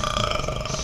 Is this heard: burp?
yes